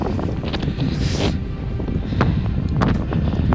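Strong wind gusts roar and buffet a microphone outdoors along Scotland's NC500 route, a steady rushing noise with a sharper surge partway through.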